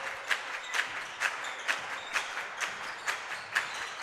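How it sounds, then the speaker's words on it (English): Steady, rhythmic clapping from a team bench at a boys' high school basketball game, about two claps per second, sharp and fairly close, over a murmuring crowd background. "Can hear the loud clapping from the bench"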